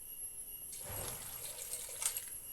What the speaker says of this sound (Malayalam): കുക്കറിൽ വേഗം വളരെ കുറച്ച് വെള്ളം മതി